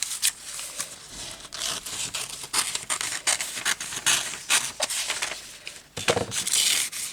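Scissors snipping through a piece of weaving material in a series of quick, close, uneven cuts and rustles, with brief pauses between bursts.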